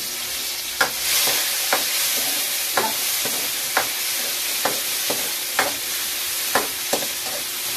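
Garlic, onion and tomato sauté in a hot pan, a steady close sizzle broken by sharp, regular scrapes and taps of a utensil stirring roughly every second, with no voices.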